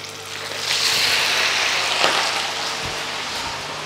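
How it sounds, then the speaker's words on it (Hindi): Chapli kebab frying in hot oil, a steady close hiss and sizzle with faint crackles, continuous and moderately loud with no talking. "इसी तरह दूसरा जो कबाब है उसको लेते हैं इस तरह और इसको डाल देते हैं अंदर।"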